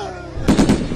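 Gunshot sound effect in a comedy skit, a sharp burst of two or three rapid loud cracks after a brief lead-in, close and punchy, cutting off abruptly.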